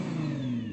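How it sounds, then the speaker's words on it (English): A Nissan GT-R Nismo engine revs in a brief, steady, loud mechanical roar with a sustained droning tone and no voices over it. "Go on, rev up the GT-R."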